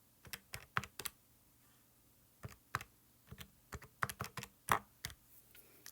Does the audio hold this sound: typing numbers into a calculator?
yes